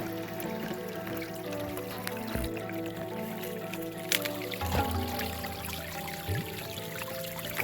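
A small brook in Oregon trickles continuously, a low, even watery wash with faint drips and splashes, close by and without voices.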